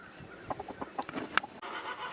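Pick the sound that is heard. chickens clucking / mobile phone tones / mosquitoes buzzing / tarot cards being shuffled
chickens clucking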